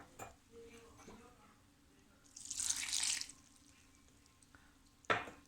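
A brief rush of water, about one and a half glasses, pouring into a pressure cooker of mustard greens and spices for about a second, followed by a clank of metal, close by with quiet room noise.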